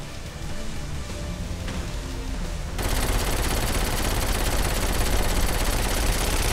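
Gunfire in the video game Saints Row 4; dense, continuous rapid shooting that grows louder and fuller partway through, with no talking.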